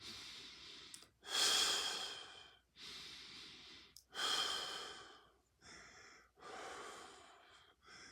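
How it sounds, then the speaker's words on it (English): Slow, deep yoga breaths during a Kundalini class, several long airy inhales and exhales in steady rhythm, close and soft with short pauses between them. "Nice long deep breathing in and out here."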